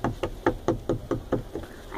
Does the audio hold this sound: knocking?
yes